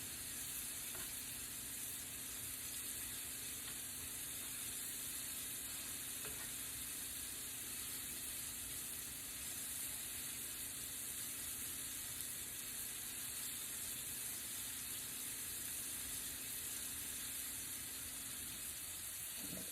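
Crawfish fry in very hot grease, a steady, even sizzle that holds unbroken at a moderate level with faint bubbling detail and no talk.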